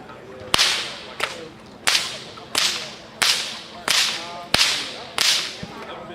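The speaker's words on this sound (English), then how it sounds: "this is probably my scariest crack that I do because I'm actually pulling the whip back towards my head" A bullwhip cracked by pulling it back toward the thrower's head, at a western museum: about nine sharp, loud cracks at a steady pace, roughly two every second and a half, each followed by a short ringing tail, with no talking.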